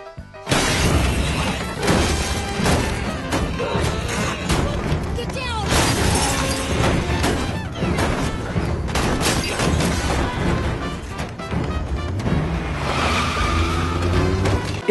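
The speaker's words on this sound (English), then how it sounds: "Naomi, her child, and her car are attacked by a savage herd of deer that just absolutely wreck it" A car is wrecked by a herd of CGI deer in a horror film: loud, dense crashing, banging and shattering with screeching tires, layered with voices and continuing throughout.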